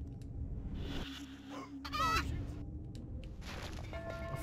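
Chickens in the video game Destroy All Humans! cluck and squawk in short bursts, with one sharper call in the middle, over a steady game background hum; a voice is faintly present at times.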